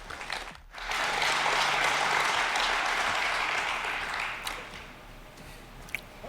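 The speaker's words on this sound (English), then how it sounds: "So please, a round of applause for Stephen." Conference audience applauding a security speaker, a dense, steady burst of clapping that rises quickly after a brief pause, holds for several seconds, then tapers off with a few last claps.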